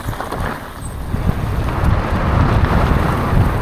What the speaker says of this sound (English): That's the first time the wind's pushed down.